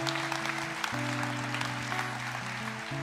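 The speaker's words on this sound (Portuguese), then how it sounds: "tem uns que estão aplaudindo agora" An audience at a church session applauds with a dense, crackling patter of clapping, heard under sustained musical tones.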